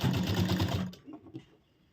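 Sewing machine running a seam on a princess-cut deep neck blouse, a loud close whir lasting under a second before cutting off, followed by faint mechanical knocks as it winds down.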